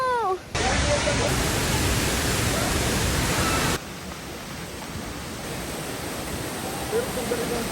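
Mother Falls at Ditumabo in Aurora roars as a loud, steady rush of falling water close by, with a brief voice at the start before the roar drops slightly in level and carries on.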